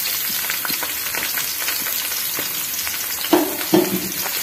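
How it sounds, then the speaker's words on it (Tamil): Sliced big onions frying in oil in a pan for veg Hakka noodles, a steady close sizzle throughout with a couple of brief stirring knocks near the end. "ஒரு 2 நிமிஷம் அப்படியே இந்த வெங்காயம் ஃப்ரை ஆனால் போதுங்க"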